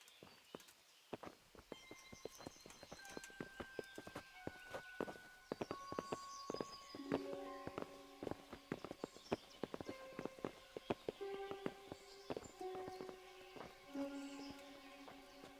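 Horses walk in the medieval role-playing game Kingdom Come: Deliverance, their hooves clopping in an irregular rhythm beneath a steady orchestral score with sustained tones.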